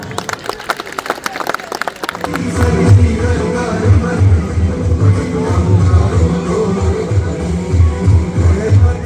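An audience at a Republic Day ceremony gives a final loud round of clapping, sharp dense claps for about two seconds that then give way to a low, rumbling crowd murmur.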